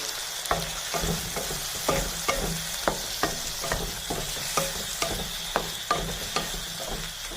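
Salt being stirred into citron gojju in a pan, with a spoon scraping and clacking against the metal in a steady, regular rhythm over a soft, continuous sizzle of cooking.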